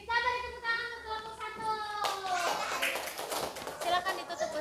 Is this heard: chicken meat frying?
no